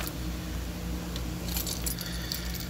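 A bunch of keys on a keychain jangles with bright, repeated metallic clinks. The clinks get busier in the second half over a steady low background hum.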